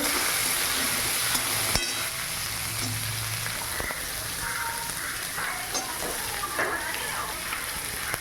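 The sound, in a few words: carrots and beans being stirred in a frying pan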